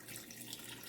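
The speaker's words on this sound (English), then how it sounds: "This is the vinegar going in right there." Vinegar pours steadily into a pickling mixture of sugar and pickling spice for beets, a faint, continuous liquid splash and trickle with no voices.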